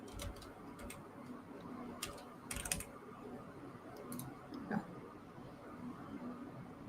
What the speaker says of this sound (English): I can hear myself typing as well